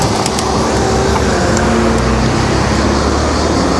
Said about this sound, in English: cars all get stuck behind bicycles on the road here